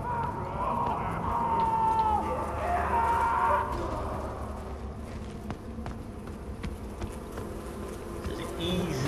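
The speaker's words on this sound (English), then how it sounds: "Yeah, F off bees." Swarming bees from Far Cry Primal buzz loudly and steadily throughout, a dense droning hum with faint rustling movement and footsteps beneath it.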